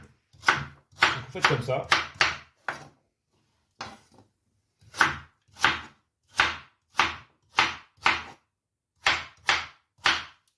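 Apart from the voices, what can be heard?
knife chopping carrots into half-centimetre rounds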